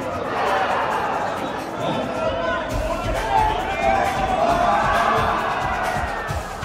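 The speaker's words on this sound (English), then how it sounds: "This game right here has the crowd rocking" Crowd at a cornhole tournament cheering and whooping steadily, with loud chatter and babble throughout, close and dense.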